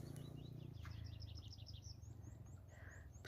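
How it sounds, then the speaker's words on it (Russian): Several birds sing and chirp in a forest of pines and meadows, a run of bright repeated chirps and trills carrying over a steady low rumble of background noise, fairly close and continuous. "Птицы поют."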